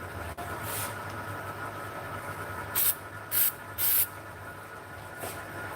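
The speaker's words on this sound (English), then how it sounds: "we'll hit it with some accelerator" An aerosol of accelerator is sprayed onto the finish of a lathe-turned pen in a few short hissing bursts, three close together midway and one more near the end, over a steady low machine drone.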